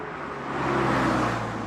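A used BMW 325 with failing brakes keeps rolling at speed, its steady road and engine roar swelling slightly midway and never dying away, with no one speaking.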